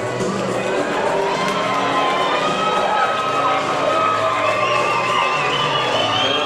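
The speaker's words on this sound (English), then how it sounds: "Just listen to the roar for the crowd." A large arena crowd at a boxing match roars loudly and continuously, cheering and shouting in a dense wall of noise.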